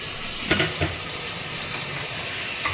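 Mutton pieces hitting a hot curry pan set off a steady, even sizzle with a few soft stirring knocks near the start and one more near the end, up close with no talking.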